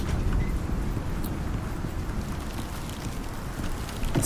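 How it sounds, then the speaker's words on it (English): Storm noise in the survival game Icarus, a steady low roar of wind and rain battering crops, constant and fairly loud with faint scattered ticks and no voices. "It's the sound of our plants all taking damage from the storm."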